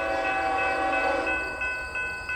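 A Union Pacific eastbound freight train rumbles past close by in Montour, Iowa, a steady broad roar with metallic tones and a faint horn-like pitch ringing through, fading slightly toward the end.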